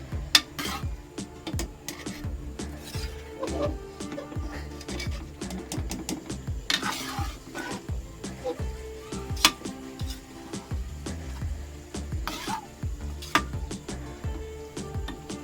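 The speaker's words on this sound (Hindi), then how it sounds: "अच्छी तरह सारा मिक्स करना है हमने मसाले में" A spoon stirring spice masala for lobia (black-eyed peas) in a metal pot, repeated rhythmic scraping and clinking strokes close up, steady throughout with faint background hum.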